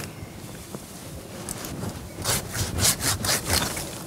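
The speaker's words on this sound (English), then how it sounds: "All the Japanese saws cut with the pull stroke." Japanese pull saw cutting a bonsai branch outdoors, with a faint start and then several close, rhythmic rasping strokes growing louder toward the end, no talk.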